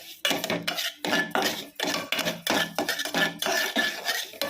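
Samba wheat being roasted in a pan, with repeated metallic scraping and stirring clatters of a utensil against the pan in an irregular, close, fairly loud rhythm.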